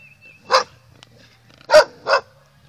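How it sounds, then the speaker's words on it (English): A dog barks three times at a moderate distance, single sharp barks with pauses between them, in an otherwise quiet outdoor garden setting. "Stinking dog barking all the time."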